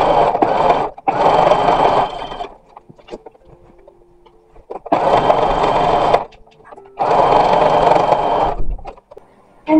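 Sewing machine stitching pockets into a linen dress in three or four loud bursts of rapid whirring, each lasting one to two seconds and separated by pauses filled with soft handling noises.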